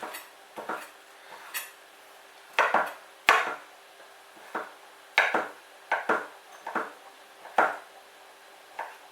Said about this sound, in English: Just want to chop them up roughly.